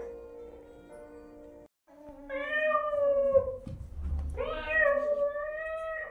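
A cat meows several times close by in drawn-out, wavering cries, alone with no one talking, as part of a Kazakh telling of the folk tale of the turnip.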